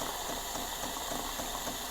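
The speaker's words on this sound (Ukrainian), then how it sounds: "Ну, а кавомашина пінить." A Jura S8 coffee machine, well used and awaiting servicing, froths milk with a steady hissing, bubbling rush, constant and fairly quiet, with no voices over it.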